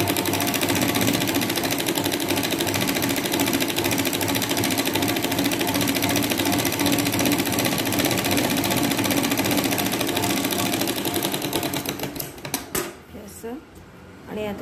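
A sewing machine stitches the lining of a katori blouse, running loud and continuous with a fast, steady mechanical chatter before slowing and stopping near the end with a few clicks.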